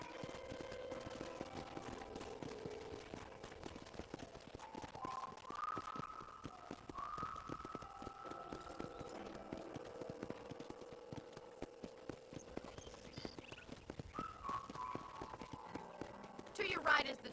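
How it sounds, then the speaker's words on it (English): Rapid, rhythmic hoofbeats of a ridden horse in Red Dead Redemption clop steadily throughout, with a faint whistling tone drifting above and a slight swell near the end. "let's see if you can still ride a horse"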